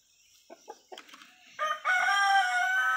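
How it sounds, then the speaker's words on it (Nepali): A free-ranging village rooster in a farmyard gives a loud, close crow, held and sustained toward the end, after a few short clucks and scuffling sounds at the start. "यो भाले चाहिँ एकदम गाउँ डुल्ने भाले हो"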